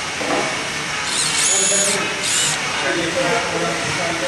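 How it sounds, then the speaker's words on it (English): A power drill whirs in two short bursts, high-pitched and close, drilling a hole in wood for lathe bowl turning, amid a steady background hiss. "So I'm just going to put the hole in here."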